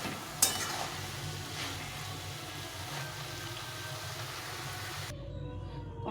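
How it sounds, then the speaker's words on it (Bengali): Cabbage ghonto being stirred in a pan as it cooks down, with a dense steady sizzle and an occasional clink of the spatula against the pan, close and fairly loud, cutting off abruptly at the end. "এখন আমি একটু নেড়ে চেড়ে এটাকে নামিয়ে দিতে হবে"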